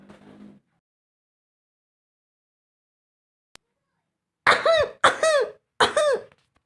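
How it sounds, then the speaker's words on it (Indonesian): A man gives three loud, exaggerated coughs in quick succession, each one harsh and voiced. A brief murmur and a single click come before them. "batuk lebay."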